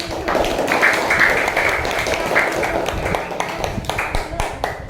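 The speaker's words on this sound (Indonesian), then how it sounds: "Sudah, tepuk tangan." A school class claps together in a classroom, a busy patter of hands mixed with overlapping student voices and chatter.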